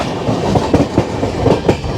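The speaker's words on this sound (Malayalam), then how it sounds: "ട്രെയിനിൽ യാത്ര" A moving passenger train en route to Mumbai on a hot midday, heard from on board as a loud, steady rumble with rhythmic clickety-clack of wheels over rail joints.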